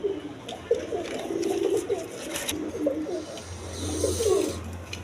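A pair of Afsani Girizial pigeons, a hen and a cock, coo repeatedly in a soft, low, rolling pattern close by, with a steady low hum underneath and no talking.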